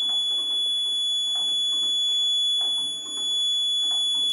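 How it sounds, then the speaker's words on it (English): A constant high-pitched electronic emergency alarm tone from a Raspberry Pi Pico-based safety device sounds without pause throughout, over faint low background noise. "emergency alarm."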